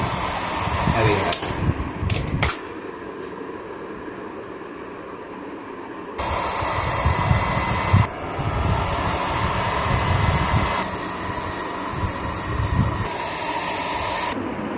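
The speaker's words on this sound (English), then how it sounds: "I'm going to use heat gun to melt this glue" Heat gun blowing hot air to melt glue while restoring an old cooler, a steady broadband whoosh that cuts in and out in several long bursts, close and fairly loud.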